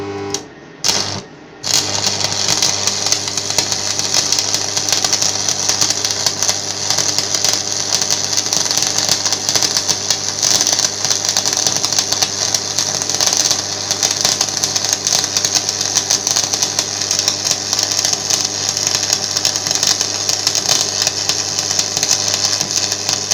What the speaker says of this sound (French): Donc je peux directement souder sur ma pièce.